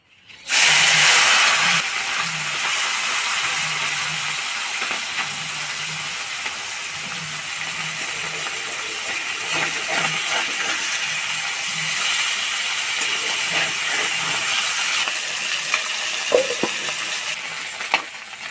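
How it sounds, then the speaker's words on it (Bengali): Small mourala fish rubbed with salt and turmeric fry in hot oil in a kadai, producing a loud, dense and continuous sizzling hiss that holds steady from start to finish. "ওই তেলেই মাছগুলোকে ভেজে নেবো"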